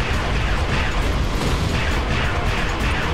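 Weapons fire in Ratchet & Clank 3: Up Your Arsenal as a dense, loud barrage of blasts, pops and explosive booms that blend into a continuous roar.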